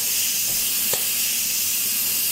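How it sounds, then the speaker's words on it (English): Steam hisses steadily from an Instant Pot's pressure release valve during a water test, a loud continuous broadband rush with one brief knock partway through. "All that steam is being released."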